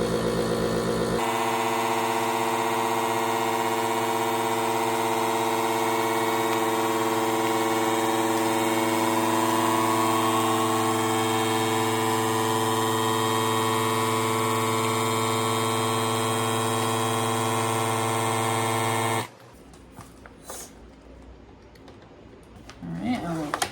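A food vacuum sealer drones loudly and steadily as it sucks the air out of a food bag. The drone runs without a break for most of the clip, then cuts off abruptly, leaving faint handling sounds.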